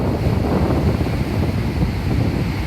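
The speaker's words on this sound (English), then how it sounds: "There are some seriously rough waves because there are no coral reefs that hinder the waves here." Rough ocean waves with strong wind at the foot of Mount Gower, a loud, continuous roar of surf and buffeting wind noise on the microphone, steady throughout with no talk.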